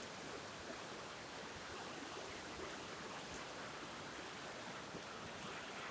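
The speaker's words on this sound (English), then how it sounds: "Beautiful river." River flowing steadily, a continuous broad rushing wash of water, fairly quiet and even throughout, with no voices.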